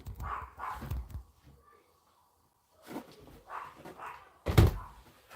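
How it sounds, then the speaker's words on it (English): Dogs bark outside a window, a few muffled woofs at the start, then a pause before more barks and a sharp close thud, all fairly distant and intermittent. "I'm sorry if you can hear all the dog barking outside."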